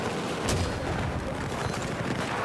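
A mortar fires in the video game Battlefield 4, with a sharp report followed by dense, continuous, loud battlefield booming and gunfire noise throughout.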